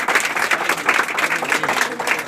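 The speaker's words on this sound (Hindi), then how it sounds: "एक बार जोरदार तालियां हो जाए।" An audience at a school award ceremony for first-division matriculation students bursts into fast, dense clapping that holds steady and loud throughout.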